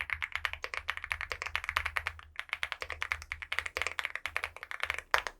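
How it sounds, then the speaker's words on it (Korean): Nimbus V3 mechanical keyboard switches on a LEOBOG Hi86 aluminum keyboard clack in a fast, steady run of crisp keystrokes, close up, with no talking. "이렇게 스위치 타건 소리가 다릅니다."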